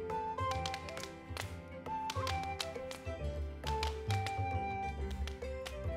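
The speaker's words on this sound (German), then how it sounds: "Zum Beispiel mit den Stäben klopfen." Wooden flowersticks knock together during a juggling trick, a series of sharp taps in an uneven rhythm over steady background music.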